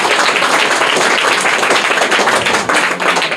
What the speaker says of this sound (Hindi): जोरदार तालियां इनके लिए एक बार